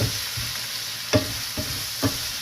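Chicken frying in a pan sizzles steadily as soy sauce goes in, with a few sharp scraping knocks from stirring spaced through the clip.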